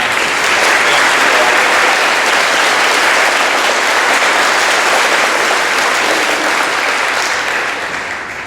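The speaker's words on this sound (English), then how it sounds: "can we also get a round of applause for all of our veterans here and recognize them one more time?" A loud, sustained round of applause for veterans from a crowd at a Veterans Day ceremony, dense even clapping filling the space before tapering slightly at the end.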